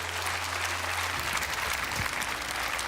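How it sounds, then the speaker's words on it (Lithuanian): Steady, sustained applause from a studio audience, many hands clapping continuously throughout with no pauses. "didžiausi aplodismentai aidi iš mūsų studijos svečių"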